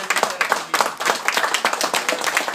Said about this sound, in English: I think we should give a loud round of applause to Linda and the volunteers